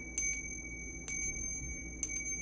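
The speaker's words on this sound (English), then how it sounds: "bell here to just cleanse the area" A small ritual bell is rung three times at an even pace for space cleansing, each bright, close strike ringing out with a long shimmering tone that overlaps the next.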